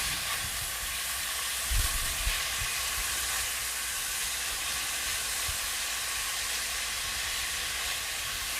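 Thin-sliced steak for a cheese steak sizzles steadily on a hot cooking surface, a dense, even hiss with a few soft pops and bumps, heard alone without talk.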